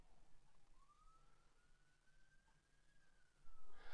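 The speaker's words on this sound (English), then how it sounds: "If you hear sirens, I'm sorry." A faint siren wails in the distance, one long rising and falling tone drifting outside, under a quiet background hum.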